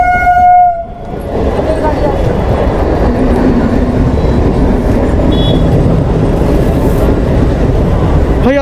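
A train rumbles past at close range on a busy Indian railway line, a loud, steady roar of wagons and rail noise filling the whole stretch after a brief horn-like tone at the start.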